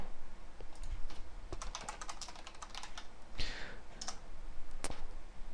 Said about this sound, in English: Go to Google, type in HTML colors.